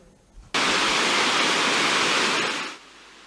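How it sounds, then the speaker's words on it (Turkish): The thawing Muradiye waterfall in Van roars with a dense, steady rush of falling water that cuts in abruptly, holds loud and even for about two seconds, then drops away. "soğuk hava nedeniyle donan Muradiye Şelalesi son günlerde havanın ısınmasıyla birlikte çözülmeye başladı"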